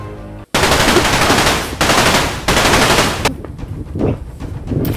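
Automatic weapons fire in long, rapid bursts, loud and close, with brief gaps between strings of shots and scattered single cracks at the end, no talking over it.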